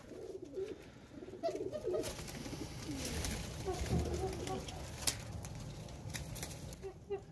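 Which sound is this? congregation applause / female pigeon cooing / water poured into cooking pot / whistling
female pigeon cooing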